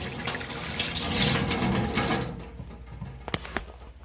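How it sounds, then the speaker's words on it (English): Water from a hose-fed tap pours into a sink inside a canvas tent, a steady close rush that cuts off about halfway, followed by a few faint clicks and drips in a quiet room. "Just turn it on. There you go. Fresh water."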